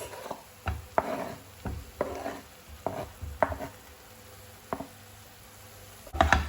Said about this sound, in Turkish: Şimdi patates, patatesimizi üzerine ekliyoruz.